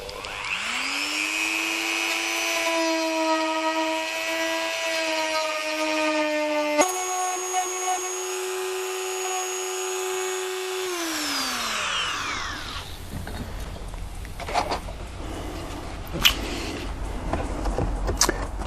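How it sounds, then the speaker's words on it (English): A power tool grinds off a section of a VQ SBD Dauntless wing during repair. A loud, steady high motor whine shifts pitch midway and winds down, followed by scattered clicks and handling noises. "we're going to grind off this bit here."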